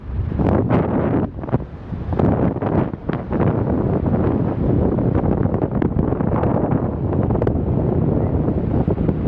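Wind and waves on the sea shore at Puri beach, dominated by loud, continuous wind buffeting against the microphone, with a rumble of surf underneath and no talking.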